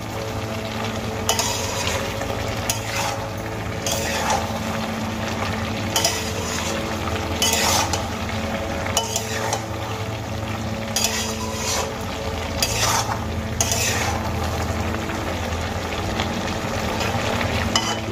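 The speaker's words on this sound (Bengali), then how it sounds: "এবার আমি খুব ভালো করে সবজিগুলোকে নাড়িয়ে নেব।" Vegetables for a Malabar spinach and hilsa fish-head chachchori stirred in a frying pan, with rhythmic scraping strokes of the spoon over a steady low sizzle and no voices.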